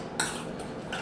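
Fish tagine ingredients stirred in a bowl with lemon juice, a utensil scraping and clinking against the bowl in a few quick strokes, close and distinct.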